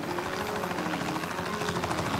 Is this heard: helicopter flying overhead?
yes